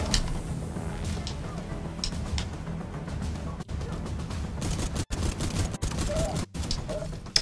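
Rapid bursts of shotgun and automatic gunfire in The Division 2: Warlords of New York, a dense, continuous fusillade of overlapping shots with a few brief gaps, loud and close, with no talking.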